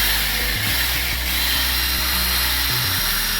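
A power drill buffs a car headlight during restoration with a Rust-Oleum kit, running as a loud, steady whir with brief dips in speed, and no voices.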